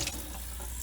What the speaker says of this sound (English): Give them a quick rinse underneath tap water.